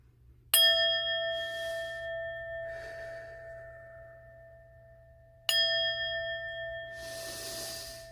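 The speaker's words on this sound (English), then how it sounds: "I'm going to use my singing bowl just to level out the frequency" A singing bowl struck twice, several seconds apart. Each strike gives a clear metallic ring with sustained overtones that slowly decays, with soft brushing or rustling between the strikes.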